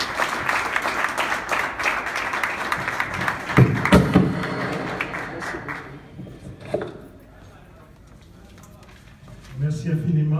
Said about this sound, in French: s'il vous plaît, donnez un rang d'applaudissement pour Monsieur Professeur Robert Lee